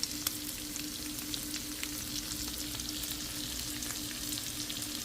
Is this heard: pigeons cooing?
no